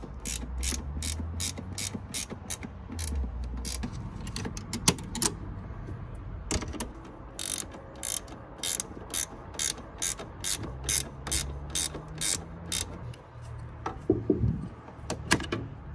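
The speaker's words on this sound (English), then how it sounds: "You're gonna get 2 box sand wrenches and just tighten them up like that." Box wrenches ratchet strut bar nuts tight on a Hyundai Veloster N, bursts of rapid metallic clicking repeating in short rhythmic strokes, close and sharp with no talking.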